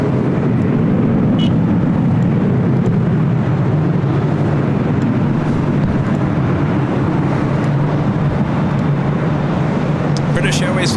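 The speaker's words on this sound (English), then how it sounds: "British Airways Flight 282 heading back to London Heathrow. 777-300ER lighting up." A British Airways Boeing 777-300ER spools up its engines for takeoff, a loud continuous low roar that holds steady throughout, with a brief higher rush near the end.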